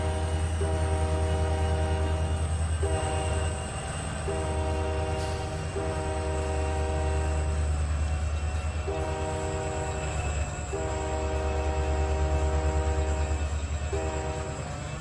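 A train in the Trainz 12 game rolling with a steady low rumble, while a loud horn sounds repeatedly in long and short blasts over the engine drone.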